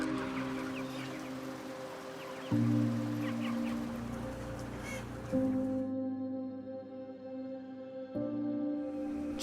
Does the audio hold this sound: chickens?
yes